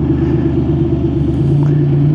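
A passing TVR sports car's engine sends out a loud, steady low rumble with a deep throb that holds through the moment, heard from alongside on a motorway.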